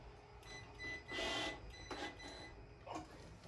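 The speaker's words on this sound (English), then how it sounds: "Getting all the screws tightened in." Screws being tightened while installing an Uplift Desk locking under-desk drawer with shelf give a few short, faint mechanical whirring bursts against a quiet room background.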